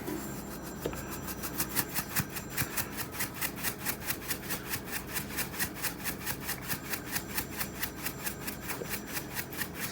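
Black pepper ground by hand over a crab pie mix, a quick rhythmic rasping of the grinder repeating steadily for about ten seconds, close and fairly quiet.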